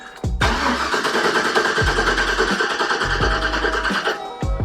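Starter motor cranking a 6.0 LS V8 in a 2007 Chevy Express with the fuel cleared so it won't fire, several repeated whirring crank bursts in close succession, loud and close with no voices.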